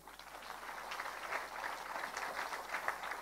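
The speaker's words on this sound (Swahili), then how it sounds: "Kanano, pigieni makofi." Crowd applause for the former Nairobi governor at a Kenyan political rally, a steady wash of clapping from a large audience heard at some distance with no voices over it.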